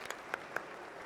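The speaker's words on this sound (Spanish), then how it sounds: "Creo que merecen otro aplauso, ¿verdad?" A union meeting audience claps for panelists, a thin scattering of a few distinct hand claps over quiet room tone, brief and fairly faint.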